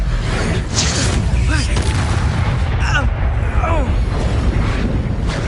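An Incendio fire spell cast during combat in Hogwarts Legacy, a roaring rush of flame with booming, crackling bursts under a steady dense wash, loud and close, with brief swooping effects.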